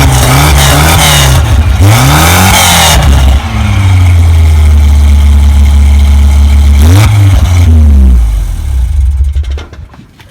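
A Volvo 240 fitted with a custom exhaust runs loud and close, its engine rising and falling through several revs before settling, then dropping away sharply near the end.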